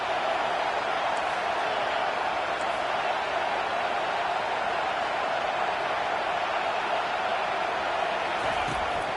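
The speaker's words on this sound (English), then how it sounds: "The roar of the crowd trying to fuel this defense to keep them pinned in their own end." A stadium crowd at a college football game roars in a dense, steady wash of noise that holds at a constant level throughout, without pauses.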